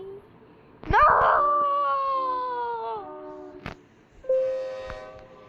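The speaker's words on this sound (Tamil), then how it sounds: "ஐயோ ட்ரெயின்." A train horn blares loud and close in a long sustained chord, fading after a couple of seconds, then a second shorter blast follows.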